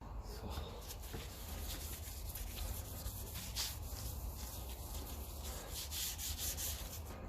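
The face of a 1954 Ferguson 20 TEF diesel tractor battery is scrubbed and cleaned with a steady, continuous rubbing and sanding sound, close by and even in level throughout.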